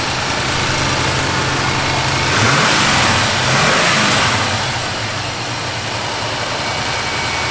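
A 1940 Ford F1 truck engine running steadily while driving, heard from inside the cab as a continuous loud drone that swells briefly in the middle before settling back.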